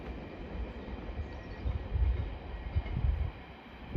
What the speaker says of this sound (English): we have got a 345 coming in, heading westbound